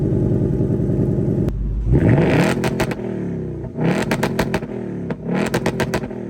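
A 2024 Ford Mustang Dark Horse with quad 4.5-inch exhaust tips revs hard in several loud, sharp bursts over a deep idle, each climb falling back quickly with a rough, menacing bark.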